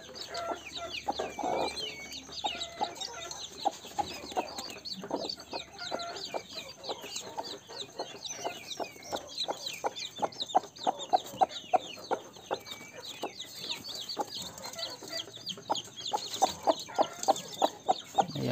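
Chicks of a broiler and village chicken cross peeping continuously and rapidly, close and fairly loud, with clucking from older fowl and brief handling noises.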